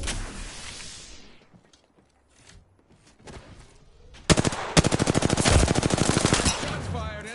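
Rapid automatic gunfire in a PS4 shooter game, with a loud sustained burst of evenly spaced shots after an earlier faded blast and quieter sounds.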